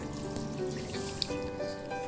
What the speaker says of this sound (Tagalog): At lagyan ko na rin ng tubig.